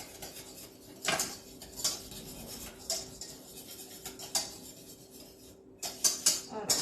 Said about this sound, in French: On mélange bien vraiment jusqu'à l'épaississement.